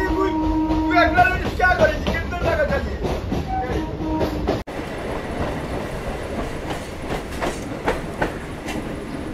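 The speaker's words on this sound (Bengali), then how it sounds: "আমাদের ট্রেন চলে এসছে এখন বড়বাজার স্টেশনে।" A Kolkata local train on the Dumdum to Majerhat run pulls into Burrabazar station, its wheels rattling and clacking loudly and steadily, with metallic screeches early on and a brief dropout midway.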